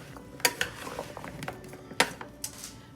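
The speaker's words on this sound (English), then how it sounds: "So kind of stir this together a little bit." A utensil scrapes and clinks against a pot while an onion mixture is stirred, with sharp metallic taps, the loudest two clearly separated, among softer scraping, close and quiet.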